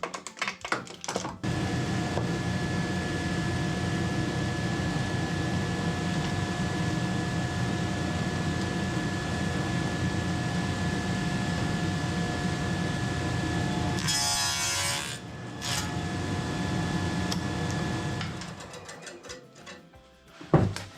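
Shop-made box joint jig cutting finger joints in wood: a loud, steady machine whir and cutting drone runs continuously for about eighteen seconds, with a brief change in tone midway, then winds down.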